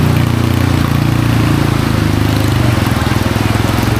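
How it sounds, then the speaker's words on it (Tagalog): A motorized tricycle's engine chugs in a rapid, pulsing rhythm close by, loud and steady as it travels past on a rainy street. "May bumabiyahe pang tricycle"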